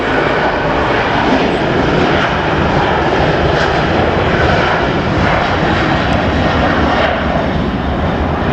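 A steady, loud roar of an airplane engine powering up on the north runway at LAX, broad and sustained without letup, as a plane takes off nearby.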